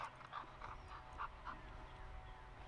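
A dog in obedience training pants in quick, rhythmic breaths, roughly a dozen short puffs close to the microphone. The panting is fairly quiet and fades out toward the end.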